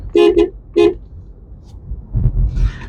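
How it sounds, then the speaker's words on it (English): A car horn gives three quick honks, two close together and then one more, followed by low engine rumble and a short muffled sound. "I'm gonna honk at my buddy."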